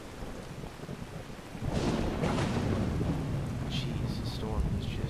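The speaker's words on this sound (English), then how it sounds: "the storm is just raging" A thunderstorm in the video game Skyrim brings a loud roll of thunder over steady heavy rain and wind, swelling from a quieter rain wash into a sustained rumble.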